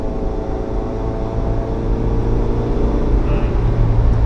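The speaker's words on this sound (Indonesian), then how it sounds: "meraung sekali mesinnya, kedengaran." The 1500cc engine of an automatic Daihatsu Luxio strains steadily at around 3000 rpm while climbing a steep uphill road, giving a loud, continuous low droning roar that swells slightly toward the end, heard from inside the vehicle.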